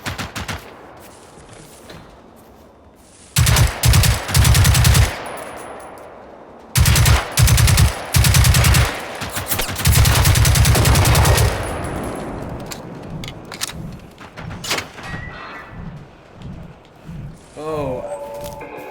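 Bursts of automatic gunfire in the video game Generation Zero, several loud rapid volleys separated by short pauses, then fading into quieter ambient game sounds.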